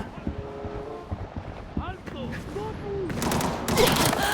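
Gunfire from the game Arena Breakout rattles in bursts, growing louder and denser toward the end, with a voice talking over the shooting.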